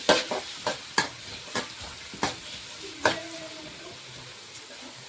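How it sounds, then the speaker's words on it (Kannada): Chopped onions, four large ones, stirred in hot oil in a pan, with a series of sharp spoon scrapes and clacks over a faint sizzle, each stroke distinct and fairly close, no one talking. "ಈಗ ಆನಿಯನ್ ಕಟ್ ಮಾಡ್ಕೊಂಡು ಹಾಕ್ಕೊಳ್ಳೋಣ."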